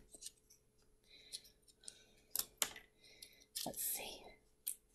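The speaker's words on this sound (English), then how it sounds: "If I can get it open and just rip it" Plastic packaging of a cheap eBay makeup item being ripped and cut open, with close, quiet snips, crinkles and a few sharp tearing bursts, plus soft talk.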